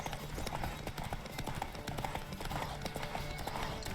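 The horse Chestnut gallops in The Witcher 3, its hooves beating a fast, steady clip-clop close by that runs the whole time without letup.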